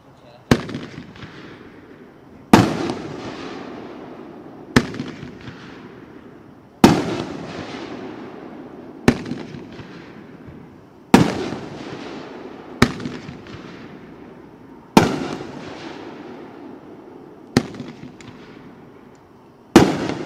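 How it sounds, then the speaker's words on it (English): Fireworks display at a pyrotechnics expo, Spirit of '76 Wacky Tabacky cake: a steady series of loud individual shots roughly every two seconds, each a sharp bang with a crackling, fading tail, heard without talk. "Thank you for watching our fireworks."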